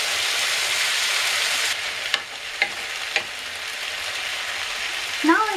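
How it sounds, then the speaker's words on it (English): Garlic and onion sizzle and fry in a skillet for a ratatouille, a steady close hiss with a few sharp clicks of stirring and a brief scrape near the end. "Now I add garlic and onion."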